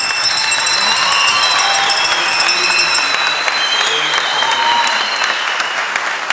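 A studio audience applauds a comedian after a sketch on a Turkish comedy show, with steady, loud clapping throughout, overlaid by whistling tones and music.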